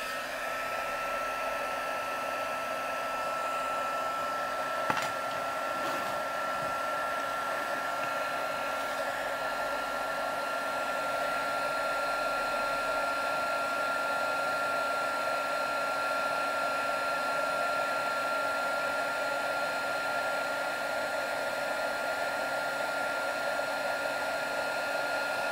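A hair dryer drying and heating a paper craft table decoration: a constant loud blowing whoosh with a steady motor whine running unbroken for about twenty-five seconds, alone with no voices.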